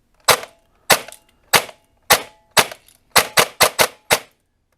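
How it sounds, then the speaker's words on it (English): An airsoft Perun P90 fitted with a DSG and a 36K motor fires ten sharp semi-auto shots, close and loud, spaced unevenly with a quicker cluster near the end and no talking. "I'm gonna shoot it semi-auto for 10 shots"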